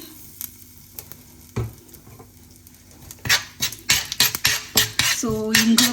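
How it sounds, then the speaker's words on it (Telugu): Tempering for a Rayalaseema toor dal chutney: cumin, mustard seeds, urad dal and asafoetida fry in oil in a pan. A soft sizzle gives way to a run of sharp spoon clinks and scrapes as the mix is stirred, ending in a ringing metallic tap. "కొంచెం పచ్చివాసన పోయేదాకా ఫ్రై చేసుకుని"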